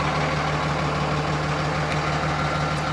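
A Cummins diesel engine in a third-generation six-speed manual dually pickup settles into a steady, low rumbling idle, a constant close drone with no voices.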